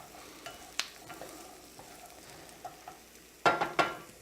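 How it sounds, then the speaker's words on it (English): Diced carrots, celery and onion sauté in a soup pot with a faint sizzle, broken by light scrapes and a few louder stirring knocks near the end, close and quiet without speech. "The vegetables have now been sauteing for about 6 minutes and they're ready to add to the soup"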